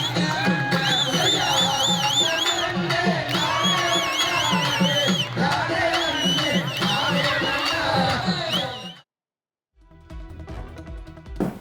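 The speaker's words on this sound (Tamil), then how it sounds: "பாஜக தலைவர்களின் நடனத்தை பார்த்து தொண்டர்கள் ஆரவாரம் செய்தனர்." Party supporters at a BJP political gathering cheer and shout in a loud, dense crowd roar while leaders perform a Valli Kummi folk dance, with music-like tonal lines running through it before the noise cuts off and quieter sounds resume.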